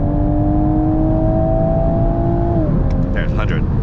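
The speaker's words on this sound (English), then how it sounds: "Give it full throttle." A 2020 Toyota Supra A90 engine runs at full throttle with a loud, steady drone heard from inside the car. The pitch sags and fades near the end, and people talk over the noise.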